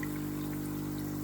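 An aquarium filter driven by a four-outlet Fedour air pump moves water with a constant low trickling flow over a loud, steady mechanical hum, unbroken throughout.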